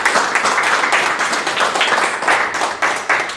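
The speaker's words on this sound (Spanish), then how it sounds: "¿Cuántos pueden darle un fuerte aplauso al Señor?" A church congregation breaks into loud, sustained applause, a dense wash of many hands clapping that rises and falls in waves for several seconds, with no one speaking over it.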